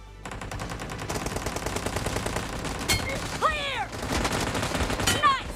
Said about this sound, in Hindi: बस गोली चलाते रहो।